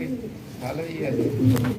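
Fancy lotan pigeons coo in soft, throaty bursts, close and fairly loud, over a steady background as voices talk nearby.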